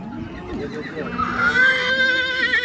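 A loud, close horse neigh at the Karakol livestock market rises and trills over a background of people talking, ending in a high, shaky whinny.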